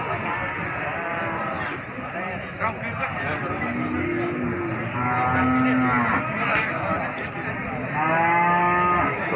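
Several cattle moo in turn at a cattle market, long low drawn-out calls, fairly close, over a busy background of murmur and livestock noise.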